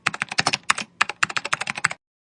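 Fast typing on a computer keyboard, a quick burst of crisp, close key clicks lasting about two seconds with one short pause, then silence.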